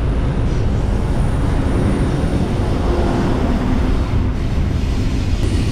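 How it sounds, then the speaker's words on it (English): A long train rolls past in an industrial area, a loud, steady rumble with faint high squeal running the whole time and no pause. "That's still the same train from earlier, hasn't stopped."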